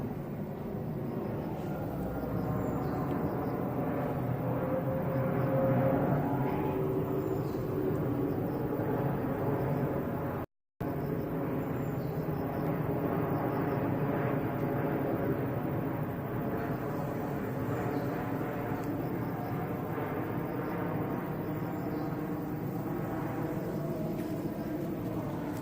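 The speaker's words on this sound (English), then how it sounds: "Where's the plane?" An airplane flying overhead on a mountainside evening, heard as a steady, distant droning rumble that holds level for the whole stretch, with no talking.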